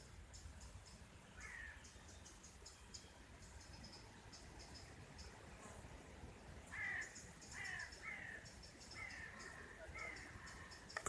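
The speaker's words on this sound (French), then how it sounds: "Comme ça, on entend mieux les corbeaux." Crows caw outdoors in a few scattered bursts, mostly toward the middle and end, moderately distant over faint ambient hiss and light insect-like chirping, with no talking.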